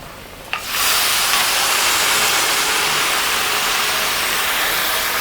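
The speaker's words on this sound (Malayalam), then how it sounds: "ഇനി നമ്മുടെ ബീഫ് വേവിച്ചത് നമുക്കിതിലേക്ക് കൊട്ടിക്കൊടുക്കാം" Cooked beef tipped into a hot pan of tomato paste for Kerala-style beef pepper roast, a sudden loud sizzle that jumps up after a short pause and then keeps hissing evenly, with no talk.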